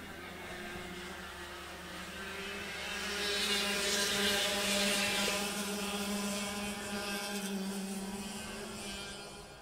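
Racing karts on a track during a senior main event: a continuous buzzing engine drone that swells as the karts pass nearer and then fades off, with no talk.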